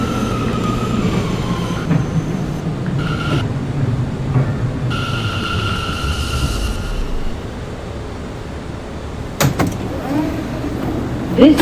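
An R179 M subway train runs between stations on the Myrtle Avenue line, a loud, steady rumble and rattle of the car with a brief high squeal and clunks late on.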